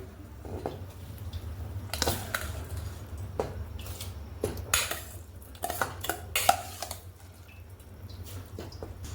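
Soaked rice and lentils are tipped into a pot of boiling vegetables for cocktail khichdi, with clinks of a metal spoon and vessel, wet splashes and scattered knocks over a low steady bubbling hum.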